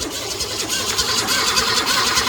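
A 1965 Ford Falcon engine cranking over, a fast, rough, rhythmic churning of the starter turning the engine, close and steady throughout with no clear catch.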